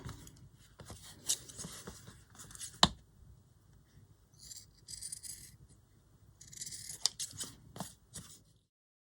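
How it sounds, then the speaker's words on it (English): Fabric scissors snip close by in several quiet, irregular cuts, with soft handling noises between them. "I'm going to need my fabric scissors for this one."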